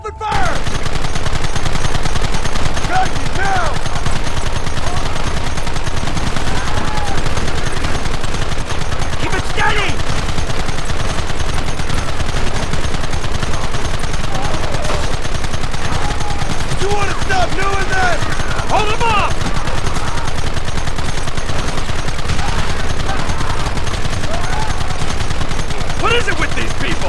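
Dense, loud gunfire from a Red Dead Redemption shootout, with rapid overlapping shots and bursts continuing nonstop, while characters shout throughout.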